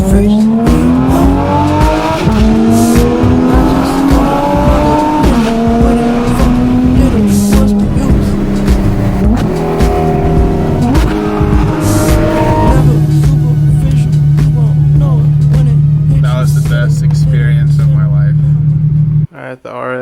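A Porsche 911 GT3 RS with the Weissach package revs hard in a run of rising and falling sweeps. It then holds a steady drone before cutting off abruptly near the end, loud and close throughout.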